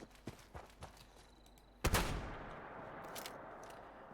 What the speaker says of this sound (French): Mon fusil à pompe, le cryolateur.